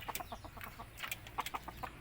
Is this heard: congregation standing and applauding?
no